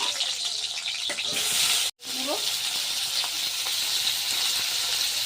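Pointed gourd frying in hot oil: a loud, steady sizzle throughout, broken by one brief dropout and a soft clink of a utensil.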